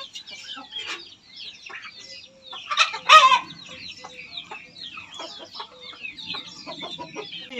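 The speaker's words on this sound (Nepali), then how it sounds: "यहाँ हेर्नुस् कुखुरा घरभरि कुखुरा" Chickens cluck all around a house, with overlapping close calls and a sharper burst of squawking or crowing from a rooster midway, and a steady scratchy chatter throughout.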